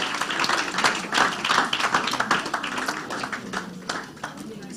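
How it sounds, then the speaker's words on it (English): A youth empowerment programme audience breaks into a round of applause, dense clapping from many hands close by that slowly thins out, with voices mixed in. "let's give a big round of applause to Madam"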